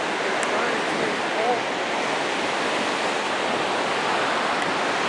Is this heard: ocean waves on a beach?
yes